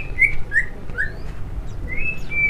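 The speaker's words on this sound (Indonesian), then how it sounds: "di sini ada burung murai batu" A white-rumped shama (murai batu) sings close and loud, a few clear rising whistles followed by a sustained high whistled note, over a steady low background hum.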